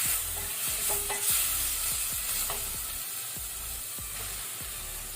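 Prawns frying in oil in a pan on low flame, with a spatula repeatedly scraping and stirring in a steady rhythm over a continuous close sizzle, no voices.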